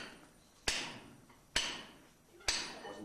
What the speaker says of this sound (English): Tap man would hold it on the face. Hammer man would hit it.